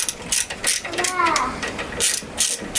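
A small screwdriver turns screws into plastic lawnmower carburetor parts, giving short clicking, ratcheting turns in quick bursts close to the microphone, with a brief squeaky tone in the middle.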